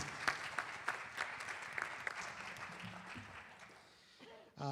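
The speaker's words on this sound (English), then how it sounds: "can we have a round of applause for Bob?" A school board meeting audience claps for Bob, a retiring paraprofessional, in a quiet, modest round of applause with a few distinct claps that thins out before a voice comes in at the end.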